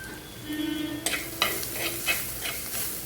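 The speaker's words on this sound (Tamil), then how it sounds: "பூண்டு கொஞ்சம் வதங்கி வரட்டும்" Garlic and green chillies fry in a pan for fish head curry, a close, continuous sizzle broken by several sharp clatters of stirring.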